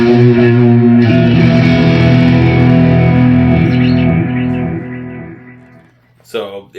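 A 2006 white blonde Fender Esquire Classic Series electric guitar is played through light overdrive and delay. Sustained, slightly gritty notes ring out with echoing repeats that fade away, followed by a few brief picked sounds at the end.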